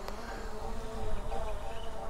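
A high, steady insect-like buzz of a small DJI Mini 3 Pro camera drone flying nearby, continuous over wind noise.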